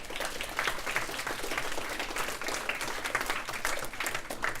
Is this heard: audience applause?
yes